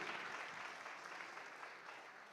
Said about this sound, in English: A round of applause before he comes in.